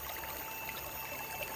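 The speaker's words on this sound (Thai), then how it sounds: "ฟังเสียงน้ำไหล" A rural stream in southern Laos flows steadily, a continuous close babble and trickle of running water with no voices.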